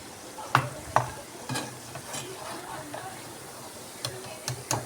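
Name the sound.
frying egg and flour snack in oil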